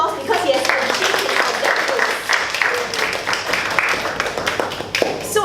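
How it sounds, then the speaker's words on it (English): An audience claps in steady, dense applause at a speech evaluation session, a continuous patter of many hands that holds at an even level from start to finish. "give him a round of applause because he has achieved his"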